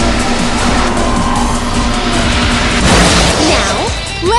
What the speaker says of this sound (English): going faster will make crashes